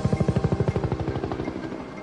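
Combat helicopter patrolling the desert around Area 51 near Las Vegas, its rotor beating in a fast, steady thump that is loud at first and then fades gradually, with no voices.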